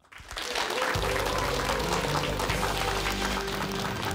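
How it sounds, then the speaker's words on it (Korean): An audience at a televised lecture gives a lecturer a welcome. The applause swells within the first half second into dense, sustained clapping that stays strong to the end, with a faint murmur of the crowd beneath it. "큰 박수로 맞이해 주시기 바랍니다"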